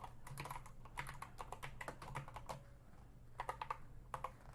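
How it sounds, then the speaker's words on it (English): Typing on a computer keyboard: quick, close clusters of light key clicks in irregular bursts with short pauses, faint and alone. "Let me type that in."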